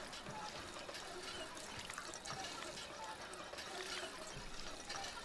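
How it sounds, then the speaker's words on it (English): A water pump being worked in the video game Fallout 4 gives a steady rushing, splashing gush of water with faint creaks, continuous and fairly close, with no speech over it. "I don't know why I'm just pumping water."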